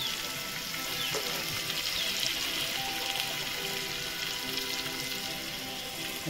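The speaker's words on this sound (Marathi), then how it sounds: "थोडा टाइम आता फ्राय होऊन द्यायचे" Singhada fish frying Agri-style in a pan, a steady, dense oil sizzle holding at an even level throughout with no voices.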